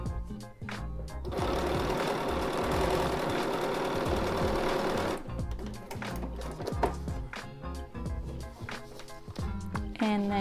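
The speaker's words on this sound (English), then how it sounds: "and sew on that solid line." A sewing machine stitches fabric for foundation paper piecing on a granny square block, running in a long steady burst and then in shorter start-stop runs, close and loud.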